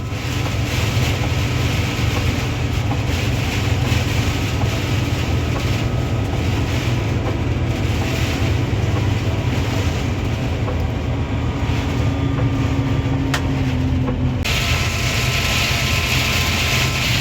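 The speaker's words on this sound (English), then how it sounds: "I have never in my life driven a tractor through rain like this." A tractor with a closed cab is driven through very heavy rain, and the engine's steady drone blends with a loud, unbroken roar of rain hammering the cab for the whole stretch.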